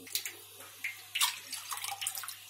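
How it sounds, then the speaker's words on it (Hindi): Plain water poured into a metal pot in a kitchen, splashing and trickling in uneven bursts at close range with short pauses between pours. "मैंने एक बर्तन लिया है उसमें डालूंगी मैं दो गिलास पानी सादा नॉर्मल पानी"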